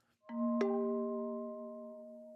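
Synth bell notes from an arpeggiator in Sleep Token's Caramel, a low bell struck first and then a higher bell jumping in a moment later, both ringing on and slowly fading, clear and alone.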